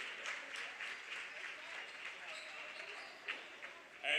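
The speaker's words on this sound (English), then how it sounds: "a round of applause for Fort Lee, runners-up for this year's holiday tournament" Audience applause at a varsity boys basketball game for the Fort Lee team, runners-up of a holiday tournament, heard as steady, fairly faint clapping across the whole stretch with a louder burst at the end.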